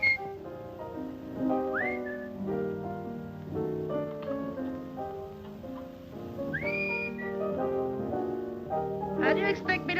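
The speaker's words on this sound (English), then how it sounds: "How do you expect me to whistle through a toothache?" A man whistles a lilting tune alone, the melody rising and sliding through bright, sustained notes with a few quick upward swoops, close and steady for the whole stretch.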